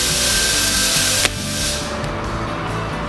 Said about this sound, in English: That's the compressor you heard in the background.